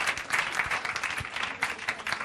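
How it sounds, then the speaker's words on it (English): An audience at a panel discussion on China's market gives the panelists a big round of applause, a lively, uneven burst of many hands clapping at moderate loudness, with a few sharper claps standing out. "please join me to give a big round of applause for our smart panelists"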